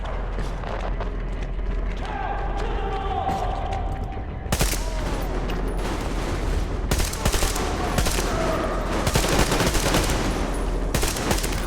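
Dense covering gunfire in the video game Metro Exodus: sustained rapid automatic bursts overlapping into a loud, continuous fusillade, with voices shouting beneath it.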